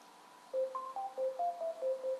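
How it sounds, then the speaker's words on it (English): A custom text-message ringtone for an iPhone plays alone: a short, clear electronic melody of about eight bright tones stepping up and down in a quick, even rhythm, close and clean against a quiet background. "And that's the ringtone I want for my text messages."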